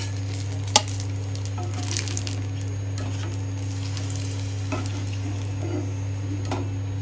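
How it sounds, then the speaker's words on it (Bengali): Eggplant slices frying in oil, a steady soft sizzle over a constant low hum, with a sharp utensil tap early and faint occasional clinks. "এইভাবে প্রতিটা বেগুন আমি ভেজে নেব"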